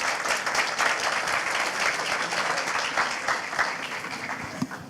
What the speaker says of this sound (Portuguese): Uma salva de palmas para a Érica,